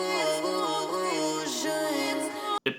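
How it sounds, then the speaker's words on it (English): A vocal hit drenched in reverb and delay and muffled by EQ, sitting back in a music mix as a sustained, pitch-gliding tone that runs about two and a half seconds before a brief gap and a short tail. "What I would do is add reverb and delay and use an EQ to muffle the sound."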